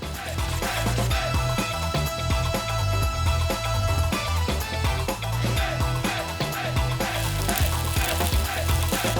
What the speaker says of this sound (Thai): เราคลุกข้าวข้าวกับน้ำมัน ให้ข้าวของเราเคลือบไปด้วยน้ำมัน